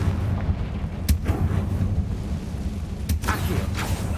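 Booming blasts from the Confringo fire spell in Hogwarts Legacy, two sharp explosive cracks over a steady rumbling game background.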